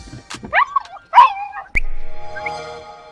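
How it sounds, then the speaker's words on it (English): Two excitable dogs bark and yelp outdoors in a few sharp, close bursts, followed by a steady whirring motor hum. "Right, two mad dogs."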